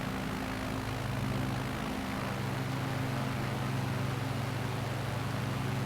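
A light bush plane's engine drones steadily in flight over Nevada, a loud, continuous propeller hum with a low tonal pitch that dips slightly as power is eased back, then holds level.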